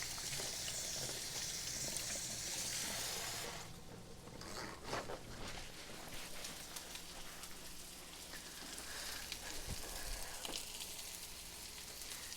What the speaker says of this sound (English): You just want to put them in and let them sear